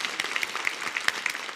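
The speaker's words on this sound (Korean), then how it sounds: "하나님께 영광의 박수 드리겠습니다" A church congregation claps together in praise during a special dawn revival service, dense steady applause with sharp individual claps throughout.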